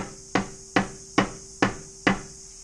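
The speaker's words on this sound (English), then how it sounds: "I've got the hammer of doom. This is the one that flies to pieces all the time." A hammer strikes a car supercharger's snout to knock it apart. Five sharp, evenly spaced metallic blows land about every half second, close and loud, with no talking.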